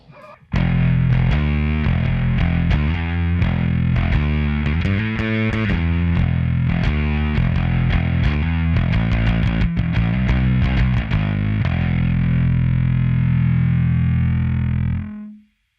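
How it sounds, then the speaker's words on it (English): Overdriven bass guitar through a Darkglass Microtubes 900 bass head on its modern B3K metal-leaning setting: a distorted, gritty riff of punchy notes and chords plays alone and ends on a sustained, ringing note. "The B3K option is actually the modern overdrive. It's a little bit more of a metal tone"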